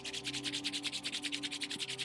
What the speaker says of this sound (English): And rub your palm together